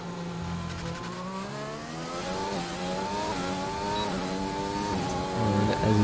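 Race car in a sim racing game, qualifying lap at the French Grand Prix, engine revving steadily through the gears with rising harmonic whine heading into turn one, loud and continuous with no voices.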